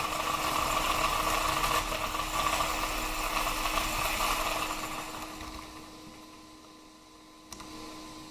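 A 1/10 scale RC car with independent wheel drive accelerates through a turn, giving a steady electric motor whine that fades over several seconds, fairly quiet and without voices.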